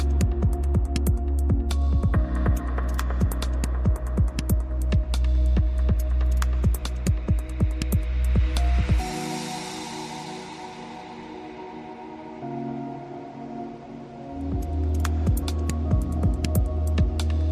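An Alpha Pro key machine decodes a SAG tubular key, humming and throbbing with a steady motor drone broken by regular sharp clicks, then a quieter stretch before the motor returns.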